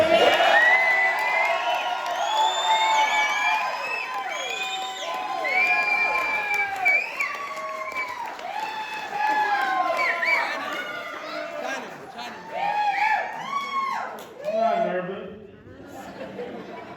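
Crowd at a first-ever stand-up comedy show cheering, whooping and chattering loudly and continuously, with scattered applause and excited shouts rising and falling throughout.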